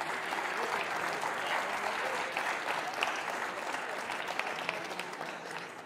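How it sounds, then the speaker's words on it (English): A crowd gives a squash player a sustained round of applause at the Windy City Open 2024 in Chicago: continuous, even clapping for about six seconds, with no one speaking over it. "let's have a big round of applause for Francis Sebastien Bonmalais"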